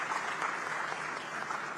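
An audience at a plenary session of a diaspora conference applauds with steady, dense clapping that stays even for a couple of seconds, moderately distant in a large hall.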